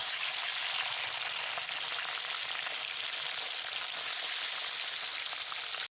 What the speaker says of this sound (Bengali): বাকি মাছগুলো আবারও একইভাবে ভেজে নেব